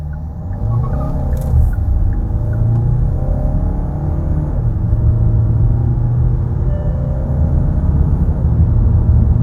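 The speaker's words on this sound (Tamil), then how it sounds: "வண்டி பார்த்தீங்கன்னா சீரிட்டு போகுது." A 2025 Kia Carnival accelerates hard from a standstill, its engine building into a loud, steady droning roar that climbs in pitch through the run, heard close from inside the cabin with no talking.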